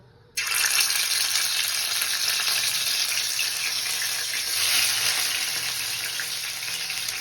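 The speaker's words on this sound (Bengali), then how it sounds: "এটা খুব ভালোভাবে গরম হয়ে গেছে, এখন আমি পনিরগুলো ভেজে নিব" Paneer pieces are dropped into hot oil, setting off a sudden loud, dense sizzle that holds steady and close for several seconds with no talking.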